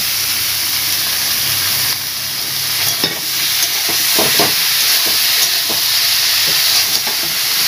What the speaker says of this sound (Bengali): এবার লতিটা দিয়ে দেব